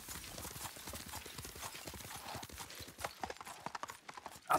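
Horse hooves clip-clopping in the Ghost of Tsushima video game, a quick, steady rhythm of close, fairly quiet hoofbeats that grows louder and more uneven toward the end.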